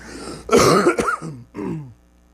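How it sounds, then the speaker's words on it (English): A man clears his throat and coughs a few times, harsh and close, in short bursts before falling quiet. "I'm going to cough, and it's not professional, excuse me."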